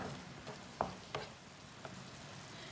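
Potatoes and onions cooking in a pan over medium heat give a faint, steady sizzle with a few soft ticks and pops, with no one talking.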